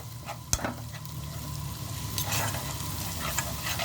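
Crushed garlic fries in a pan with a continuous soft sizzle, punctuated by a sharp utensil clink and light stirring scrapes, close and moderately quiet with no voices.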